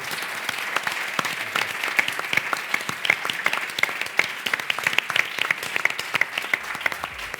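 Audience members at a conference session in Zaragoza applaud, a moderate crowd clapping in which many individual sharp claps stand out, continuing steadily and close by.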